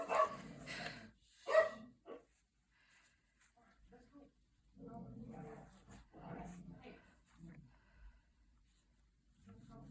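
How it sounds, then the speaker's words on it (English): Dogs bark and growl playfully in bursts at a distance, muffled as if from another room, with a person talking quietly in between. "Oh, and the dogs are playing upstairs."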